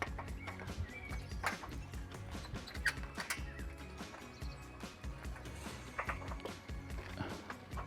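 Small screws being fastened into a shutter end cap, faint close clicks and ratcheting taps of a screwdriver in irregular bursts, with quiet handling knocks between them.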